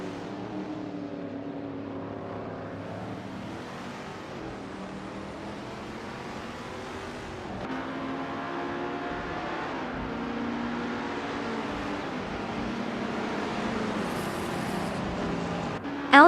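Racing car engines from a racing video game drone steadily and continuously, with pitch shifts as cars accelerate and a brief high whine near the end, no talk over them.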